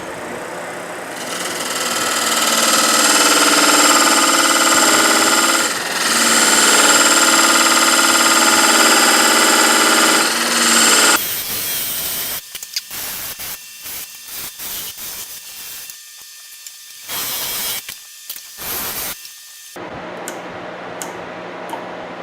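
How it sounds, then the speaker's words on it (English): Wood lathe turning a bead on top of a segmented peppermill, a steady loud whir for about ten seconds, then intermittent bursts of cutting and spinning separated by quiet gaps. "I'm going to try putting a bead on the top."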